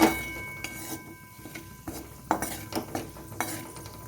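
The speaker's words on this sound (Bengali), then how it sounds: "ফোড়নটা এবারে খুব ভালো মতন ভেজে নেব যতক্ষণ একটা গন্ধ বেরোয়।" Spices temper in hot oil in a wok for a vegetarian moong and pointed gourd kalia, with a faint sizzle under repeated metallic clinks and scrapes of a stirring spoon against the pan.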